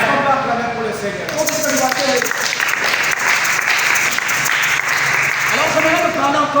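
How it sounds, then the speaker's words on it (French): A church congregation claps and applauds for the Lord in a dense, sustained burst of applause, loud and close, rising then tapering off, with a voice heard at the start and end. "Est-ce qu'on peut acclamer pour le Seigneur?"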